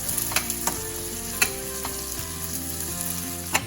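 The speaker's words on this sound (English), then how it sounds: "I use white onion, and cook about a minute" White onion frying in a pan, a steady soft sizzle with a few light clinks of a utensil stirring, close and without speech.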